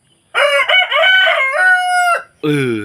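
Rooster crowing close and loud, one long harmonic cock-a-doodle-doo lasting nearly two seconds, then the start of a second crow, with no talk over it.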